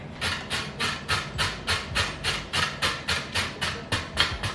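Carrots are rubbed against a cheese grater in about a dozen evenly paced, close rasping strokes, steady and rhythmic, with no voices.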